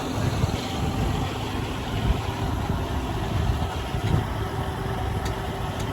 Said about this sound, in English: the tractor just going real slow to give them a chance to do it